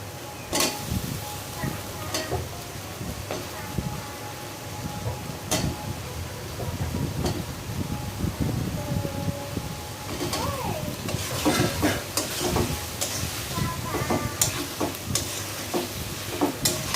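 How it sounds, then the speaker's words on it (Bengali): Spices and pumpkin are stirred and turned in a frying pan with green chilies, the spatula scraping steadily over a continuous sizzle, close and moderately loud throughout. "ভালো করে আমি মশলাটাও উলট পালট করে দিচ্ছি"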